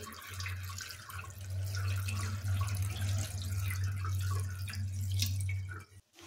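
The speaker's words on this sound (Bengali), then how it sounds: "চাউমিনের ওপর ঠান্ডা জল ঢেলে দিচ্ছি" Room-temperature water poured over boiled chow mein in a kitchen, a steady close splashing and running-water hiss with a low hum underneath, continuous for several seconds before cutting off.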